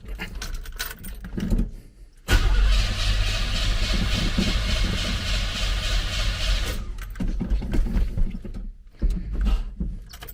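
A cold Hyundai Elantra GT cranks on a Topdon jump pack in a cramped spot: a loud, continuous starter grind of about four and a half seconds that stops without catching, framed by quieter rustling before and after.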